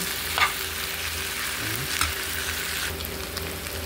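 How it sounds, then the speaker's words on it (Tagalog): Tofu sisig with chicken being stirred in a hot pan, a steady close sizzle with occasional scraping of the spatula against the pan. "Hahaluin na natin."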